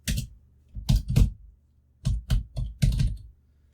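Bursts of computer keyboard typing as a page heading is entered, clustered keystrokes in several quick groups with short pauses between, close and clear with no talking.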